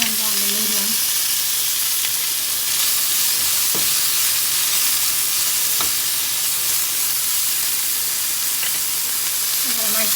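Vegetables frying in oil in a pan at medium heat for a quick Parmesan orzo dinner, giving a steady, close sizzle with soft stirring scrapes throughout and no talking.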